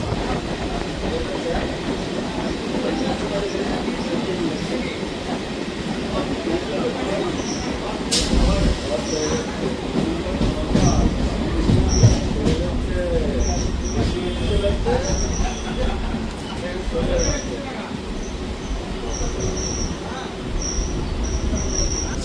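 A Sealdah–Madhyamgram local train rolls along steadily with a constant rumbling roar, rail clatter and occasional wheel squeal throughout, loud and continuous, with voices talking faintly inside the carriage.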